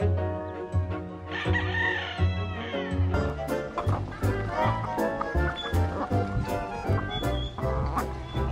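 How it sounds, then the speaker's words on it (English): Native chickens and a rooster in a coop where hens are incubating eggs, with repeated crowing and clucking layered over a dense, busy background of farm animal sounds, continuous and fairly close. "let's have a tour about the native chickens that are now incubating their eggs"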